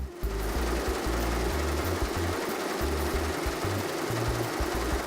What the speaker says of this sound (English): One row of robotic machines will stitch up to 15 towels or sheets at one time.